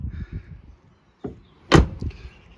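A Ford Focus MK1 Ghia diesel car door is pushed shut with a sharp, solid thump, followed by quieter mechanical clicks and a short whirr of the locks engaging, all close up with no talking.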